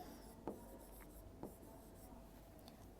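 A pen writes on paper with soft scratchy strokes and two sharper taps as it touches down, faint and close in a quiet room, with no talking.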